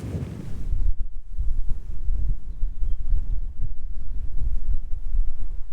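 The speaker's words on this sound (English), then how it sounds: "That wind is blowy, isn't it?" Strong wind gusting along a Jurassic Coast clifftop, a loud, continuous low buffeting rumble across the microphone, steady throughout with no voices.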